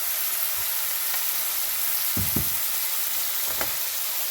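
Tomatoes frying with salt and turmeric in a pan for paneer bhurji, a soft steady sizzle with a few brief low thuds and scrapes from stirring.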